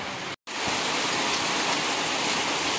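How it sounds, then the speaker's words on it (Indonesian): Steady, heavy rain pours in a dense, continuous hiss, broken by a brief moment of silence near the start. "Hujan."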